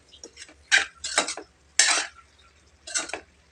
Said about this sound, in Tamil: இப்போ எல்லாத்தையும் படுற மாதிரி நல்லா கிளறி விட்டுக்கலாம்.